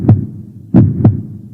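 Heartbeat thumping in a low, muffled double rhythm, a pair of soft beats followed by a pause and another beat, close and alone over a faint hum.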